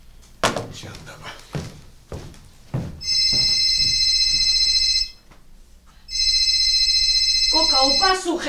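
A telephone rings on stage during a 2024 theatre performance, two long bursts of loud, steady electronic ringing separated by a short pause, following brief voices and thumps.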